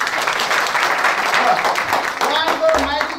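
At a Nepali wedding for Prakash and Rashila, a crowd of guests keeps up a few seconds of steady clapping while voices talk over it.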